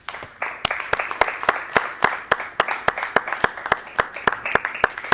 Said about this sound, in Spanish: ¿Cuántos dan un aplauso al Señor?